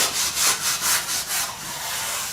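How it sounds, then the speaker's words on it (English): A red Scotch-Brite pad scuffs metal parts from a 6.0 Powerstroke before coating, making close, rhythmic hissing strokes that blur into a steadier rub at the end. "my choice of sandpaper is going to be just some red Scotch-Brite. And we're just going to attack this from all angles."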